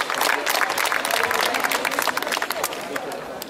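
An audience claps for a newly formed folk band at a village gathering, a dense, steady roar of applause that fills the space with crowd noise throughout.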